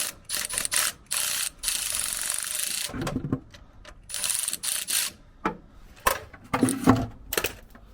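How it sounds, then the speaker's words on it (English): A socket ratchet loosens the 8mm bolt on a coolant hose while a Subaru STI EJ207 engine is being removed, with bursts of rapid metallic clicking, near and loud, broken by short pauses and a few handling noises. "We'll start loosening the 8mm bolt for the coolant hose."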